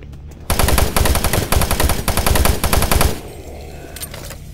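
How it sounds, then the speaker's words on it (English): Automated turret guns in the Doom 3 video game fire a loud, continuous rapid burst for about three seconds, then cut off, leaving faint background hum and a few distant clicks. "Warning, automated turret guns online."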